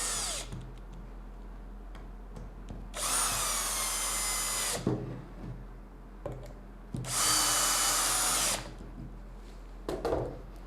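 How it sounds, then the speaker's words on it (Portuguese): A cordless power screwdriver drives screws into a compact Rivertools router table during assembly, two sustained close whirring bursts of about two seconds each with short clicks and handling noise between them. "vamos fixar todos esses parafusos agora para nos ajudar na montagem. Não vá com toda a força na parafusadeira"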